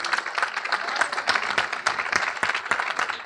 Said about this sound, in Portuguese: Pode aplaudir mais forte, é porque é para Deus